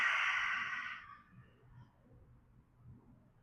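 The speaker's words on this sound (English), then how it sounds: "Big inhale. Big exhale." A big exhale during yoga breathing, a loud close breath out that fades over about a second, leaving quiet room tone.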